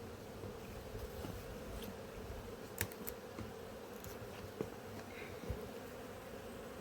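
Honeybees drone steadily around an opened hive in an apiary as a beekeeper handles the colony, a continuous close insect hum with a few brief clicks and knocks.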